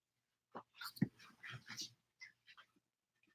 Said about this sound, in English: What are you growling about?